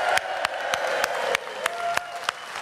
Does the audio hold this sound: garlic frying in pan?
no